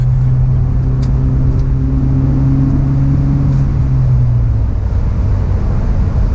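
A 2004 BMW E46 318i drives along with a loud, steady engine drone heard from inside the car, its tone easing down partway through as the speed changes.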